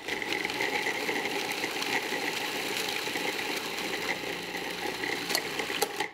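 Food processor blending brownie ingredients with almond milk, a steady loud motorized whir with a rough, rattling pulse running continuously throughout.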